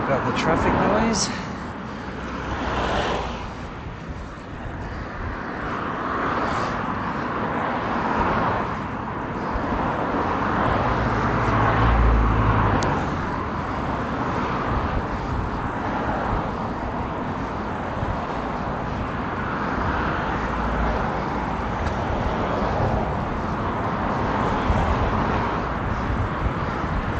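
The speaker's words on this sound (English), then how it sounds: "Sorry about the traffic noise." Steady road traffic hum with passing cars and wind on the mic along the Parramatta River walk in Sydney, Australia, continuous and moderately loud, with birds calling faintly in the mix.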